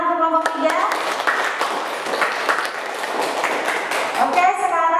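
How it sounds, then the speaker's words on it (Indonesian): Students applauding a group in a classroom lesson, a burst of close, sharp hand clapping with voices talking over the start and end. "Beri tepuk tangan untuk kelompok 3."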